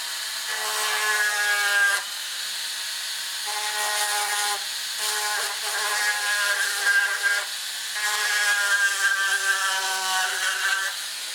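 A high-speed Dremel-style rotary tool at about 24,000 rpm carves toenails out of bone, giving a steady, close, high-pitched whine that cuts out briefly around two seconds, resumes, and wavers in pitch as it bites.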